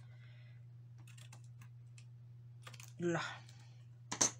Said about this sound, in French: je vais prendre mon petit ciseau, ce qui va couper mieux